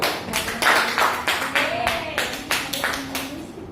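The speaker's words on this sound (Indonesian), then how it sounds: "Tepuk tangan untuk nomor 1." Students in a classroom clap for a classmate, a short burst of loose, uneven hand claps with distinct individual slaps, close and fairly loud.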